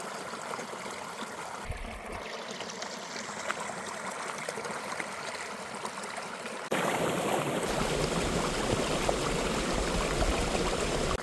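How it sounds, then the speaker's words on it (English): Small mountain streams and springs trickle down thawing hills in an alpine meadow, a steady close-up burble of running water that grows louder and fuller partway through, with no voices. "There are hundreds of little streams and springs percolating down the thawing hills around me"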